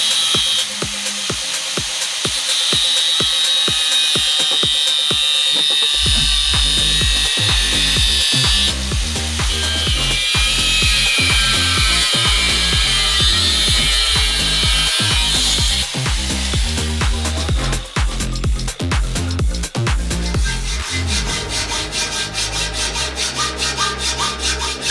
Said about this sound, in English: marked the cut lines on both sides of the subframe before attacking it with an angle grinder and a